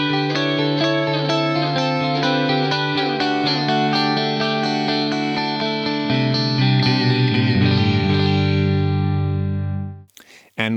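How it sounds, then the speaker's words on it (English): Distorted electric guitar run through a Fractal AX8 with a clean delay repeating each note, sustained chords ringing with echoing trails before cutting off abruptly near the end. "So you'll actually have a distorted guitar and then a clean delay signal."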